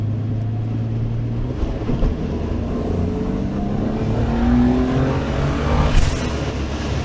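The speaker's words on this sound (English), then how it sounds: "that definitely accelerates from 40 to 70 quite nicely" A turbocharged Ford Anglia pulls from 40 to 70, the engine drone rising steadily in pitch over several seconds, heard loud from inside the cabin with road and wind roar beneath, no talk.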